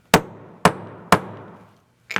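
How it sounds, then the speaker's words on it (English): A hammer strikes metal stamps held on leather, three sharp separate blows at an even pace, close and loud, each ringing briefly, then a lighter clattering knock at the end. "give a couple of strikes with my hammer."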